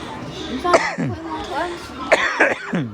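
Coughing bursts from a person mid-vlog while unboxing new gear, two or three harsh close coughs spread across a few seconds with talking in between.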